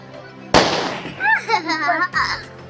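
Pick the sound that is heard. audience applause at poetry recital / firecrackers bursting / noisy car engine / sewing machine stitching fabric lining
firecrackers bursting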